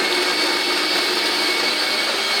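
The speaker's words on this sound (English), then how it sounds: "I absolutely love this grinder." An electric coffee grinder runs nearby with a continuous, loud whirring roar that holds steady throughout, with no voices.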